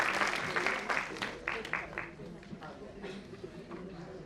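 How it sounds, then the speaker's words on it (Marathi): An audience at the Kalavishkar 2025 dance performance claps for the dance teacher in a ragged burst of applause that thins out, with a voice speaking over it. "एकदा शिक्षिकेसाठी जोरदार टाळ्या."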